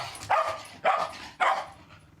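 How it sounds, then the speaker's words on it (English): A bossy pet dog barks indoors: three sharp, evenly spaced barks, loud and close, with nothing else heard. "every time she carries on barking"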